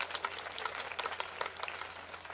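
An audience at a live Punjabi fair in Nurpur claps in a light, scattered patter, fairly faint and distant.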